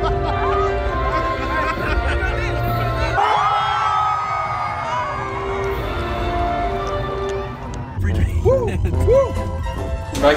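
A small group cheers, whoops and claps for a new graduate in 3D animation and digital design, loud and close, with voices shouting over the noise.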